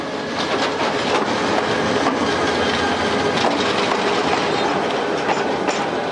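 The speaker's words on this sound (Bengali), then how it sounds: "তার উপর শহরের বুক চিরে প্রতিদিন চলাচল করে 50-এর অধিক ট্রেন।" A train rolls through the city of Mymensingh, a loud, unbroken rumble of wheels and carriages with rhythmic clatter over the rails, close by and filling the whole stretch.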